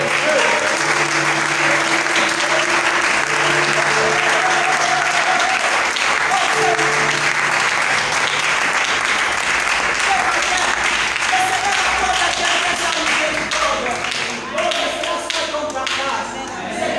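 Church congregation at an Easter service clapping steadily in rhythm, dense applause with thumps and some voices rising over it throughout.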